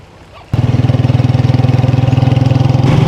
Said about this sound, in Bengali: আর এই যে এদিক থেকে আসছে হচ্ছে মাছ ধরার টলার